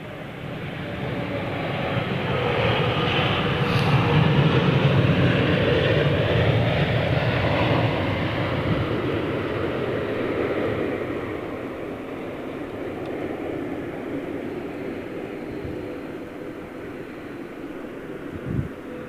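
An airliner departing Heathrow Airport roars steadily as it takes off, a broad rumbling engine noise that swells and then slowly fades, heard from some distance with wind noise and no talking.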